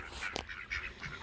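Ducks in a pen give a few nasal honking quacks in quick succession, fairly faint and unaccompanied by talk, with one sharper call in the middle.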